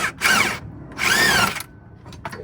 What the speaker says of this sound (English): so I just put an impact there